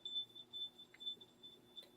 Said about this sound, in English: That's my dog wanting to go potty outside, ringing her bell